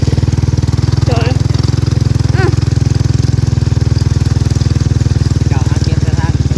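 A saleng motorcycle sidecar engine runs loudly and close at a steady, rapid, thumping idle, with voices talking briefly over it.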